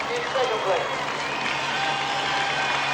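A marathon crowd applauds and cheers a runner nearing the finish at the 1983 London Marathon, a steady wash of clapping and shouts at moderate distance, with a commentator talking over it.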